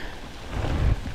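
Heavy rain hisses during a storm on a fishing trip, with a low thunder rumble swelling briefly in the middle, all broadband and fairly loud with no voices.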